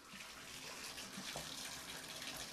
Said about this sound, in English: then we let the water run, cold water